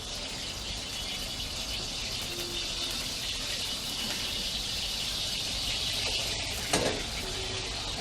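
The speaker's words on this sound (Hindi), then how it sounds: "उसके बाद हम अंडा डालेंगे." Steady, close sizzle of an egg frying in hot oil for chicken fried rice, a dense continuous crackle with one brief sharper clatter near the end.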